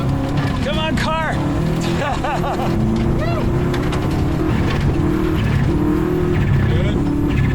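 Race car on a track in a first real race, engine droning steadily close by with rising and falling pitch sweeps through each gear change, loud throughout and mixed with talk.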